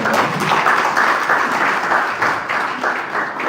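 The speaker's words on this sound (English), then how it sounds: "Let's do a round of applause" A room full of people gives a round of applause at a live Sankofa Natural Spices event, the dense clapping steady and fairly loud throughout with no talk over it.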